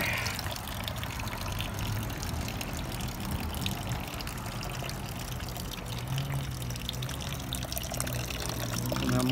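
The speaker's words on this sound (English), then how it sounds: "just gonna let it drain. It's gonna drain for a little bit." Coolant draining from the radiator of a 2001 Triumph Sprint RS 955i motorcycle after the drain bolt is loosened, heard as a steady close pouring trickle into a pan that runs without a break, with no speech.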